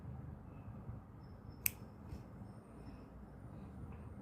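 Scissors snip crochet thread on a ladybug keychain, a single faint, sharp click standing out from quiet room hush, followed by a soft trace of a second snip, with no voices.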